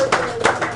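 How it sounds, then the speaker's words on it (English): A few sharp handclaps land in quick succession at an on-location sports radio broadcast at The Royal Place, brief and close, with a voice mixed in. "If everybody here could give a big round of applause for Al Levine"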